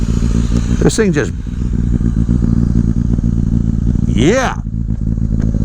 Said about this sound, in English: Listen to the exhaust note on this thing.